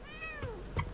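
A cat meows once in the video game The Medium, a clear rising and falling call with a faint second chirp near the end, heard close and alone.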